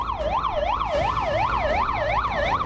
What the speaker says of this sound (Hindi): जहां भीड़ भाड़ की जगह सायरन बजाती पुलिस की गाड़ियां दिखी।